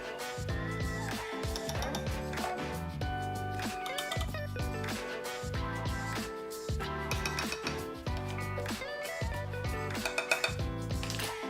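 Batter stirred in a bowl during home meal prep, a utensil clinking and scraping against the bowl at a steady pace, close and fairly clear, with music playing underneath.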